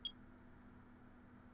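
A single short, high electronic clock beep from the Ace Attorney video game sounds right at the start, then fades into a steady low hum with no speech.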